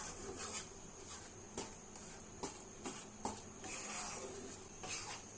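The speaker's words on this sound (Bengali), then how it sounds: "এইভাবে অনবরত নাড়তে থাকতে হবে, ভালোভাবে যাতে মিশে যায় ঘিয়ের সঙ্গে আটাটা" Wheat flour being stirred steadily in hot ghee for Jagannath Ballav, a dry scraping rub of a spoon against the pan with periodic sharper strokes, close and fairly quiet, with no talk.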